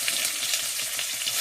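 Chopped onion with black cumin seeds crackles in hot oil in a wok, a steady close sizzle with faint stirring and no voices throughout.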